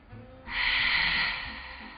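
A single long, breathy exhale close to the microphone, a steady hiss of air fading out after about a second.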